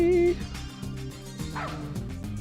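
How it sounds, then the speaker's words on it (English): A dog in the game Deus Ex gives a short bark or yip, followed by a low whimpering, close and moderately loud amid game sounds, with someone speaking around it. "Doggy."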